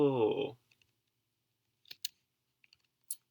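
A computer mouse clicking a few times, sharp isolated clicks spaced across a quiet stretch after a brief voice at the start.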